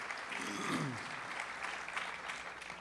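Audience claps for tabla player Abdul Ustad at a folk music concert, a fairly quiet, steady patter of applause heard at a distance, a brief low voice sliding through early on.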